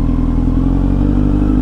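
A Kawasaki motorcycle at a service center gives a steady, loud, close engine rumble with a low idling throb and light mechanical clatter, continuous throughout as it is moved inside.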